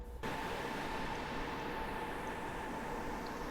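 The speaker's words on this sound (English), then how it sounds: "and a very loud train" An AC4400CW locomotive in the video game Train Simulator 2020 gives a steady, loud, broadband rumble with a faint tonal hum, continuous throughout with no voices.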